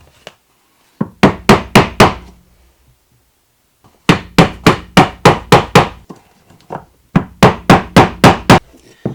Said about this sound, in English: I can often just hammer the boards into place like that